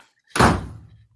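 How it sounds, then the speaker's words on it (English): A door shuts with one solid thunk, a close, fairly loud slam with a short rumbling decay, heard alone in a quiet room. "Shut the door."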